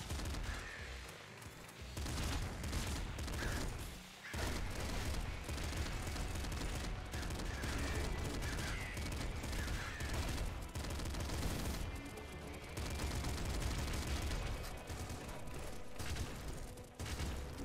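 Assault shotgun fire in the video game Nuclear Throne, with dense, continuous blasts and gunfire layered over loud game music and effects for most of the stretch, with brief drops near the start and middle.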